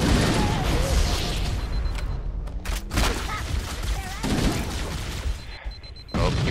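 Heavy booming cannon fire and explosive blasts crash repeatedly in a chaotic battle in the video game Halo: Combat Evolved Anniversary, with bursts of rapid shots and mechanical clanks, loud and close.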